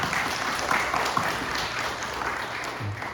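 A church congregation applauds during a Sunday worship service, a steady wash of many hands clapping at moderate distance, sustained and even throughout with no talking over it.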